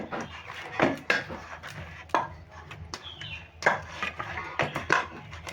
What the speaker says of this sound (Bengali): এবার আমি ময়দাটাকে আবারও ভালো করে কষে মাখিয়ে নেবো